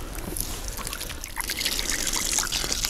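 Water trickles and pours steadily into a freshly dug planting hole for a transplanted conifer outdoors in autumn, a continuous close splashing stream with no talk.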